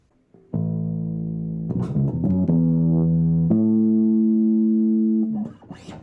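A bass guitar plays a short lick, a few quick notes followed by held tones with an effected, slightly distorted sound, fading out at the end.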